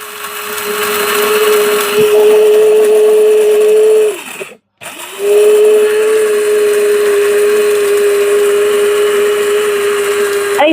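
A small electric chopper grinding ginger and garlic whirs at a steady high pitch, cuts out for a moment, then starts again and runs on loudly and evenly.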